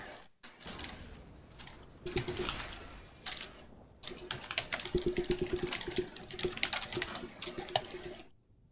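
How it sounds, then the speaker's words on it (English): Quick clattering keystrokes on a computer keyboard while typing chat during a League of Legends match come in uneven bursts, closely miked and fairly quiet over faint game sounds. "I'm actually going to type something"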